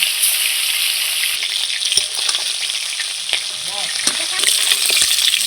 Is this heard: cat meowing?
no